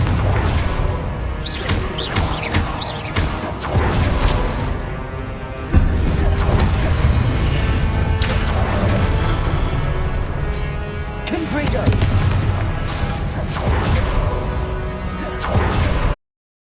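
Confringo fire-blast spells from the Hogwarts Legacy video game: repeated loud whooshing casts and crashing explosive impacts, dense and continuous, with a player's voice speaking over the game sound.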